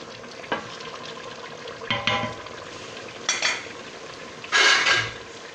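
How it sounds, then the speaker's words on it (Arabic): Pumpkin pieces are dropped into a pot of cooking chicken for Algerian couscous, giving a few separate clattering bursts and scrapes of a utensil against the pot over a low, soft sizzle. "كي نشوفوا الدجاج تاعنا خلاص راح يطيب، هنا نضيفوا الكابويا."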